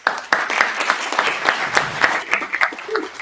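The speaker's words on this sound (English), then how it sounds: "Give a little bit of applause" An audience at a startup pitch evening claps for the event's sponsors, a moderately sized crowd giving loud, somewhat uneven applause with distinct nearby hand claps and a brief murmur of voices.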